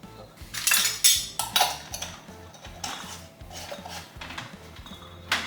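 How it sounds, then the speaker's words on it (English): Lids go onto glass jars of achocha relish, giving close, busy metallic clinks and scrapes that repeat in quick, uneven succession. "So I'm going to wipe the tops now, put some lids on"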